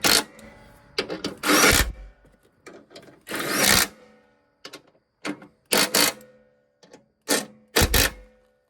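A half-inch drive ratchet turns on a Craftsman LT1000 lawn mower spindle, giving close bursts of quick clicking that stop and start irregularly with short pauses between them.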